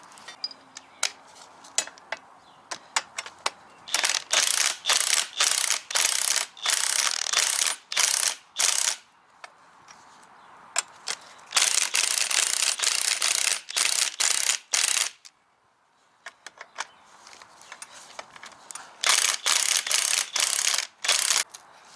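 A ratchet-driven spring compressor is tightened on the rear coil spring of a BMW X3 F25, giving repeated loud bursts of close, rapid ratchet clicking separated by short pauses, with no talking.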